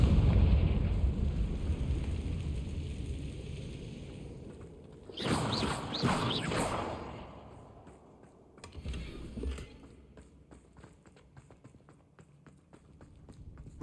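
Confringo spell blasts in Hogwarts Legacy: a loud burst of explosive crackling lasting about two seconds, then a shorter, fainter blast, over quiet ambient game sound.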